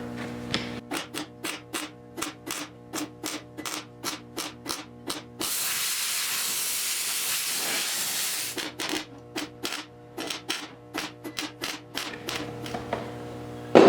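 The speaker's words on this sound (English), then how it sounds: "we're gonna weld it, but again we're gonna weld it slow and we're gonna be cooling it down" Slow stitch welding on the rusted battery box sheet metal of a 1974 Triumph TR6, heard as rapid short crackling bursts with a longer continuous hissing weld run in the middle, up close.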